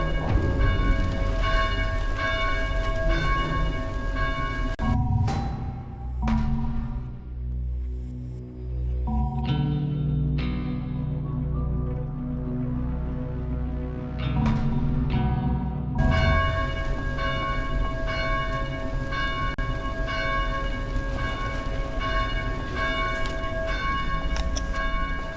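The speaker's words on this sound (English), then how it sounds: "Maybe you can figure out how to silence those blasted bells." Church bells ringing in the Dead Island video game, a steady loud peal of overlapping tolls that thins out briefly in the middle before the full ringing returns, with no talk.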